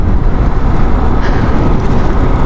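A Yamaha NMAX scooter fitted with a Techmax Turbo gives a loud, rough, steady drone up close, heavy in the low end and blended with wind buffeting, with no speech.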